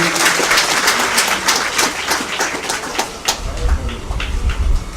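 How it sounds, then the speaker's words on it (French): Crowd applause at a primary school renovation ceremony at Cité de l'Air, steady dense clapping throughout with some crowd noise and low rumble mixed in. "On applaudit."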